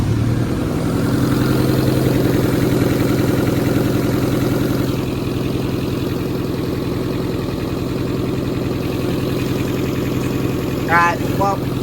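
An engine idles steadily and loudly up close, a smooth even rumble that holds from start to finish, with a brief voice near the end.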